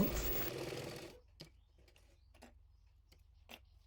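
A sewing machine stitching kameez fabric runs in one fast burst of about a second, followed by a few faint, scattered clicks and ticks in near quiet.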